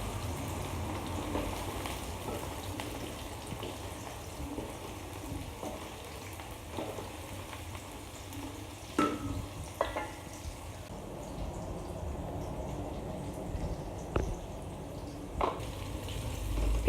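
Onions and garlic frying in oil for chicken biryani, a faint, steady crackling sizzle with a few occasional soft clicks, close and quiet, with no talking.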